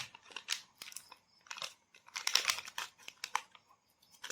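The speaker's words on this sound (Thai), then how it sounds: "แกะเครื่องมาม่าครับผม" A seasoning packet from a cup of hot mala-flavored Mama instant noodles is torn open, giving close, soft bursts of crinkling and ripping plastic in uneven spurts with short pauses.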